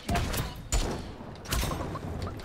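Gunfire in the Realm Royale battle royale game, played in duos as the Warrior class, with loud booming shots and bursts at about three moments over a dense, rumbling game soundscape.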